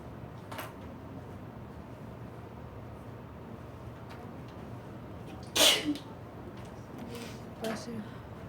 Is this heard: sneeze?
yes